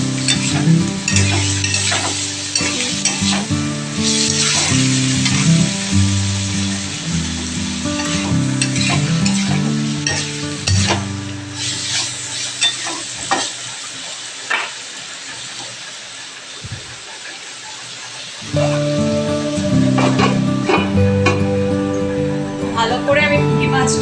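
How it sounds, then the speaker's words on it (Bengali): Puti fish fry in a kadai with a loud, close, crackling sizzle, broken by stirring scrapes and a brief lull before the sizzle surges again; a voice speaks at times. "এবার আমি পুঁটি মাছগুলো কড়াইতে দিয়ে ভালো মতন ভাজা করে নেব।"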